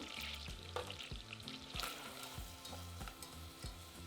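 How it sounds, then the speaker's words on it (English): Finely diced onion cooking in melted butter over medium heat, a soft, faint sizzle behind a steady, regularly pulsing background sound. "Add in a finely diced onion and cook on a medium heat for 6 to 8 minutes until the onions are soft."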